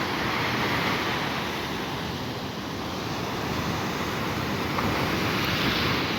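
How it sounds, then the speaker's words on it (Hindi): Huge Arabian Sea waves crash and wash onto the shore in a loud, continuous roar of surf, with wind noise buffeting the microphone throughout and no voices. "अरेबियन सी में बहुत ह्यूज वेव्स।"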